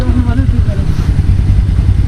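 A motorcycle engine rumbles loudly and steadily up close on a snowy road, with a voice talking faintly over the throbbing idle.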